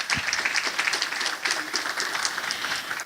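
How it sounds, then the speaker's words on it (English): Applause from an audience at a curriculum alignment event, a steady wash of many hands clapping at moderate volume for about three seconds, with no voices on top. "Can you give her an applause?"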